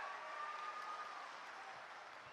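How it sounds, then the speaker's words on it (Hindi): A crowd at a Rahul Gandhi public rally in Ratlam, Madhya Pradesh, claps in a faint, distant, even wash of applause with no voices over it. "हमारे बीच में जरा जोरदार तालियों से उनका स्वागत करो"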